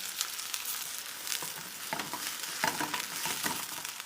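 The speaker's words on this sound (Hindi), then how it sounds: "घी गर्म हो गया है। और अब हम डालेंगे कटा हुआ प्याज" Chopped onion, about 150 grams, fries in 3 to 4 spoons of hot ghee, a steady fairly quiet sizzle with scattered spatula scrapes and stirring clicks and no talking.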